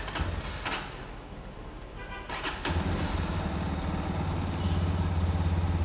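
A cold motorcycle engine starts up and settles into a steady, fairly loud idle, with a low even rumble holding after a brief cranking burst.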